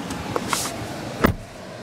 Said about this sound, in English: You get a power tilt telescopic steering.